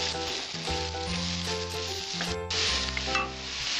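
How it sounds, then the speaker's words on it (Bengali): Soaked mung dal fries in a pan with a loud, continuous hiss and crackle, while melodic background music plays steadily underneath. "ডালটা আমি 2 মিনিট ভেজে নেব।"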